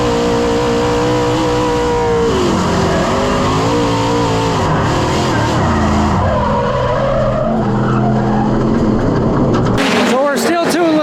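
A race car at Bristol slides sideways through the turn transition and exit, its engine note rising and falling with a loud, sustained tire squeal, ending in sharp chirps.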